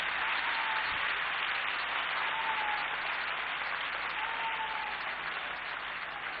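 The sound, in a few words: assembly applause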